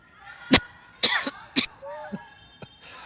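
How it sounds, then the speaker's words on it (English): Several sharp, close coughs in quick succession, loud bursts with brief gaps between them, followed by a fainter throat sound and soft voices in a quiet room. "so I was gonna cough there"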